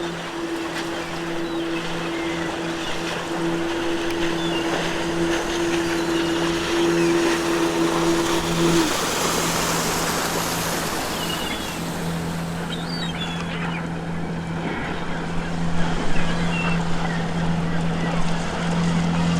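In a video game, a motorboat engine drones steadily as the boat crosses ocean waves. Wind and water wash fill the background, and a sustained tone runs underneath.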